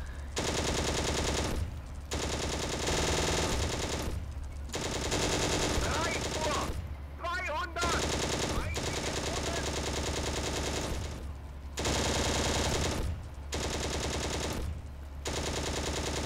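Sustained machine gun fire in the Steel Fury tank game set in Operation Barbarossa at the Bug River, long loud rattling bursts broken by short pauses, with brief speech in between.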